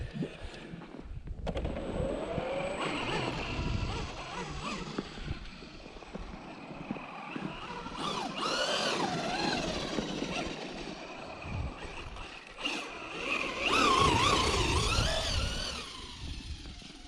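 A Traxxas Rustler RC car drives through snow and patches of ice, its small electric motor whining at shifting pitch, loud and close, with surges and brief pauses as it runs.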